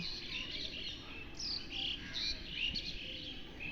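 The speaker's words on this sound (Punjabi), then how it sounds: "ਪੰਛੀਆਂ ਦੀਆਂ ਆਵਾਜ਼ਾਂ ਵੀ ਕਿੰਨੀਆਂ ਸੋਹਣੀਆਂ ਲੱਗਦੀਆਂ" Several birds chirp and tweet in a quiet village, bright overlapping calls repeating at a moderate distance over a soft steady background hum, with no voices.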